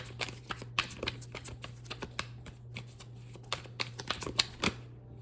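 Tarot cards being shuffled close by, a soft, continuous flurry of papery riffles and taps over a low steady hum, with no talking.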